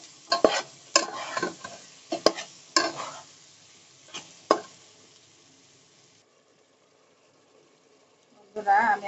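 Fried brinjal and pointed gourd tipped into hot oily spice paste and stirred, giving sharp scraping stirs and sizzling bursts for several seconds, then a quiet stretch before more sizzle returns at the end.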